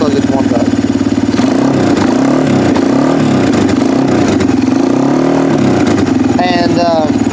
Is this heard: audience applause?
no